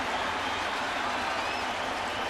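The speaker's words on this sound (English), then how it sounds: "Crowd on its feet." Baseball stadium crowd at Yankee Stadium in the bottom of the ninth, Reds against Yankees, roaring and applauding in a steady, dense wash of cheering with no breaks.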